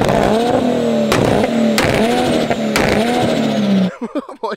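A Nissan Skyline R32 GT-R with a 2.8-litre stroker engine accelerates hard, loud and close, its engine note climbing through several sharp gear changes before cutting off abruptly.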